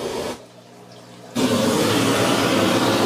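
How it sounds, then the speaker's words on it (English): Broadband test noise from an Anthem processor plays loudly and steadily through home theater speakers, cutting in after a brief quieter gap and continuing to the end with no talk. "I have my test noise ready to go"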